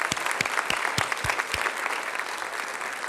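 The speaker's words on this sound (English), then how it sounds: "let's give you a round of applause" A crowd at an evening award ceremony applauds steadily, dense clapping that fills the room without pause, fairly near and even in loudness.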